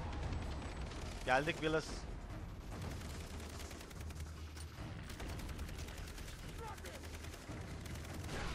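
Gunshots crackle through a Far Cry 3 video game firefight, with a burst of shots near the start, then lighter scattered fire underneath, while someone talks over the action.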